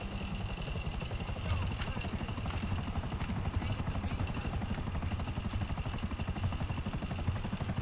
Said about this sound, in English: Instantaneous helicopter.